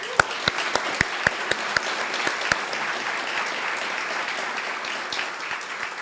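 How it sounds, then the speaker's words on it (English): Room applause at a business forecast breakfast: a sustained patter of many hands, with several loud, distinct nearby claps punctuating the first few seconds before the sound settles into a softer, even spread. "One more round of applause for all 3."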